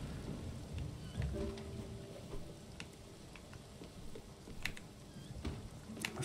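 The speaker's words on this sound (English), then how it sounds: "we were passing through a thunderstorm" Steady rain patters in a thunderstorm in the game Spiritfarer, with scattered droplet ticks and low rumbles of thunder underneath, quiet and continuous, no voices.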